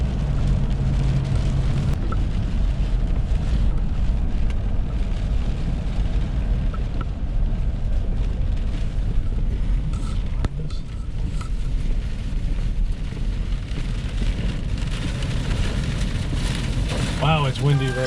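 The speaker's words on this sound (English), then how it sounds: "Wow, it's windy right here." Strong gusty wind roars steadily into the microphone during a storm chase in Illinois, a loud continuous rumble with no letup.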